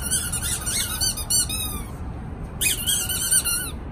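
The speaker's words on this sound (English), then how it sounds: "Buy them squeaky toys." A squeaky toy squeaks in several sharp, high bursts with short pauses between them, close and loud over faint room noise.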